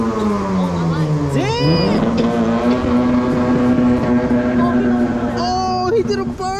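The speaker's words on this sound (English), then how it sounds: "Oh, he did a burnout." A car does a burnout nearby, its engine revving hard with a rising and falling whine and roar that holds at high pitch, while a crowd of people talk and shout over it.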